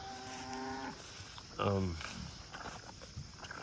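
A single loud cow moo with a falling pitch rings out nearby, with an earlier drawn-out lowing call and faint rustling and footsteps in the background.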